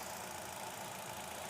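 A 2018 Hyundai i20 Sportz petrol engine idles at a steady, even hum with a faint broadband hiss, continuous and unchanging throughout, heard up close with no talking.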